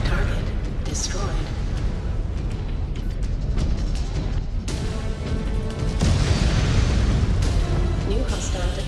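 Loud, continuous roar of a destroyed target exploding in the MechWarrior Clans video game, with dense rumbling booms and bursts rising and falling across the whole stretch, layered with mechanical battle noise.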